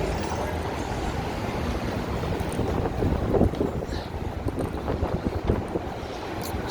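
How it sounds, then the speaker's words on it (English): Strong wind buffets the microphone while walking south on Dearborn Street in downtown Chicago, a steady loud rushing roar with gusty swells and no voices. "Going against the wind. It's very windy at the moment."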